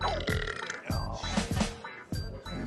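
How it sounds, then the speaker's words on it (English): Loud, close belches repeat one after another in a busy pub on a New York New Year's pub crawl, several deep guttural burps breaking through bar noise. "You know you have to go like this when you burp."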